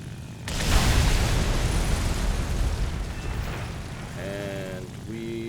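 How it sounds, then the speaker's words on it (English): Bombs dropped from an IL-2 ground-attack plane in War Thunder burst with a loud, broad explosive roar that swells and rumbles on for several seconds, with engine drone and warning tones coming in near the end. "Get level over the bridge. And then drop the bombs."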